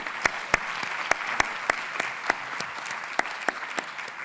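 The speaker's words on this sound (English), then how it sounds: "Please join me on the last round of applause for all the panelists." Audience applause at a high-level UN evaluation event panel, a steady spread of clapping with sharp individual claps standing out, moderately distant and filling the room without voices.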